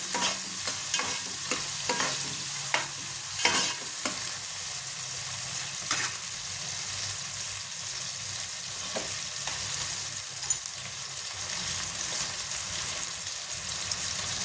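Tomatoes frying in a fish curry pan for an Andhra-style fish and raw mango stew, with a steady broadband sizzle throughout and repeated scraping stirs breaking through near the start and again midway.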